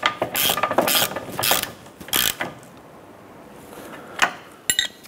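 A ratchet snugs a nut and bolt on the front control arm of a 2006-2013 Chevrolet Impala, giving several loud, close bursts of clicking with short pauses in between and a few scattered clicks toward the end.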